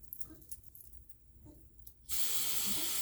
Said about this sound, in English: I'm going to just take the rest of my freeze spray